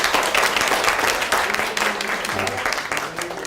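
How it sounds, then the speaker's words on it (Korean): Audience applause for a young child during a Korean public science lecture on biotechnology, a steady wash of many hands clapping across the room, with some low voice mixed in beneath. "우리 요 꼬마 친구를 위해서 박수 한번 보내줍시다"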